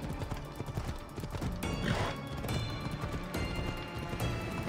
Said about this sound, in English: Maybe if this horse ran faster